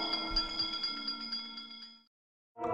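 A bright bell rings in a rapid series of strikes for about two seconds, fades into silence, then sounds again briefly at the end.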